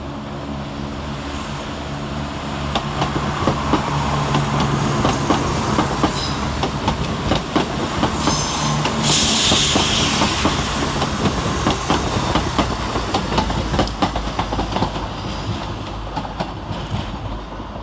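Chiltern Railways Class 168 diesel units, 168323 and 168111, run at London Marylebone station with a steady, loud engine rumble and rhythmic rail clatter throughout, with squeals of wheels mid-way.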